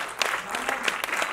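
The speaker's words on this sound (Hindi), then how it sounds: "जोरदार ताली" Audience clapping at an award ceremony honouring a singer, a brief burst of close, brisk claps with distinct individual hits.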